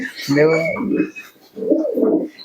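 Domestic pigeons of the Malbai flying breed coo in two close, loud bursts of throaty, rolling calls, with a short pause between them and no talk.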